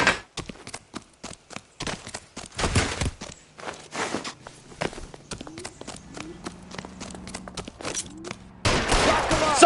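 Gunshots in L.A. Noire, a scatter of sharp cracks mixed with running footsteps and scuffling, building to a louder burst at the end.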